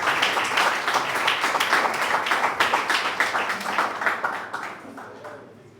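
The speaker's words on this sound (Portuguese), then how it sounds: "Palmas que exaltam o nome do Senhor." Church congregation clapping during a Sunday communion service, a dense, steady patter of many hands that fades out toward the end, with some voices mixed in.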